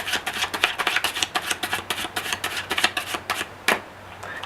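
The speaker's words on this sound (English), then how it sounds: "and you shuffle over it." Playing cards riffling through an overhand shuffle during a card-control magic move, a close, steady run of soft papery slaps and flicks in quick rhythm, ending with one sharper snap, with no talking.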